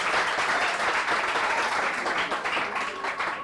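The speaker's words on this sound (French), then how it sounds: "On applaudit." Studio audience at a French TV show breaks into dense, steady applause, loud and sustained for the whole moment with no talking over it.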